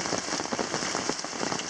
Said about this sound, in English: Just a little burst of rainfall.